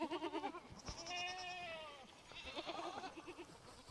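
Goats on a farm bleat repeatedly at close range, a run of wavering, quavering cries with one longer drawn-out call in the middle, fairly faint overall.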